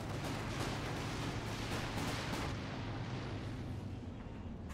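Satchel charge explosion against an Elephant tank in Company of Heroes 2: a loud, continuous rumbling boom of battle blasts and gunfire that fills the whole stretch and then slowly fades, with no voices.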